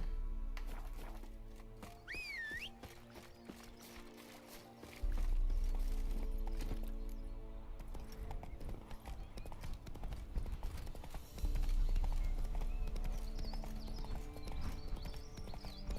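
Steady clip-clop of horse hooves trotting along in The Witcher 3: Wild Hunt over layered background music, rhythmic and continuous, with no voices.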